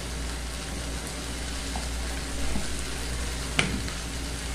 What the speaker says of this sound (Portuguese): Vai mexer bem aqui até derreter a manteiga.